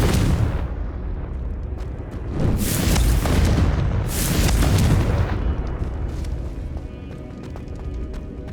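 A Confringo fire spell blasts during combat in Hogwarts Legacy on Nintendo Switch, two loud booming bursts swelling over a dense, continuous rumble of game noise.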